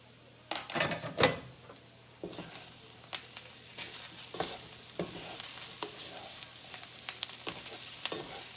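Potatoes and onions sizzle in a cast iron pan while a utensil stirs and scrapes through them, with sharp metallic scraping strokes over a steady frying hiss.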